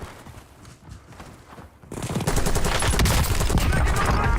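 Call of Duty: Warzone gunfire: after a quieter stretch of shuffling, a sudden heavy stream of rapid automatic shots erupts and keeps going, loud and close.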